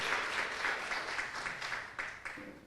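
A church congregation claps together in a dense, sustained round of applause during a worship service, loud and close, with a few sharper claps near the end.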